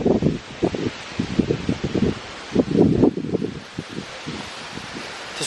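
Gusts of wind outdoors around a church, with irregular bursts of rustling and buffeting rising and falling over a steady hiss, fairly close and loud, no voices.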